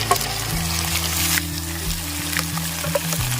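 Chunks of tapioca tipped into hot oil with popped mustard seeds and stir-fried outdoors, starting with a burst of loud sizzling that settles into a steady fry under a low hum, with scraping stirs throughout.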